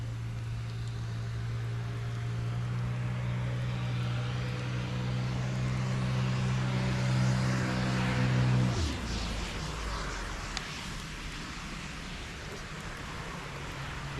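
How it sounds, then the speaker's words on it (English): A jet ski passes over a lake near summer cottages, a steady engine drone that holds loud before dropping in pitch and fading as it moves away, with no talk. "Here comes a jet ski."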